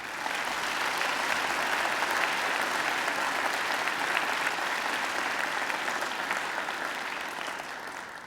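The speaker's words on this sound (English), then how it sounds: "I think they deserve a great round of applause too" Audience at a Macquarie University graduation ceremony giving a long round of applause, dense steady clapping from many hands that tapers off slightly at the end.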